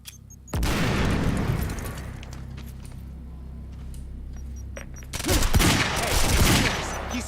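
Enemy gunfire in a shooter video game: a loud burst of rapid shots erupts near the start, a quieter stretch of scattered noise follows, then a second heavy volley of overlapping shots and booms closes it.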